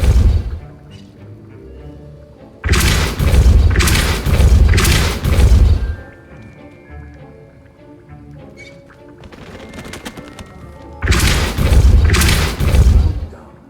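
The Depulso force spell in the video game Hogwarts Legacy, heard as two loud, heavy booming bursts, each lasting a few seconds and well separated, over a quieter game soundscape.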